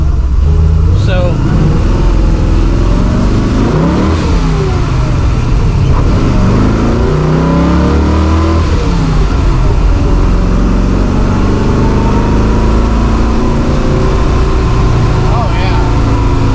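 A 1993 GMC Typhoon engine revs and accelerates loudly up close on a slick road, pitch rising and falling through gear changes, with a voice talking over it.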